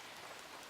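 Light rain falling steadily outdoors on a firewood-chopping day, a soft continuous hiss with no distinct drops, faint and even throughout.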